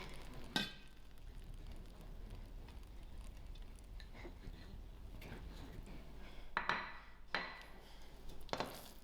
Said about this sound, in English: Mix my cheese into the mushroom.